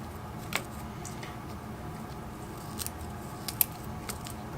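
Scissors cut through salmon to make fishing cut bait, sparse crisp snips and crunches near the spine, faint over a steady background hiss.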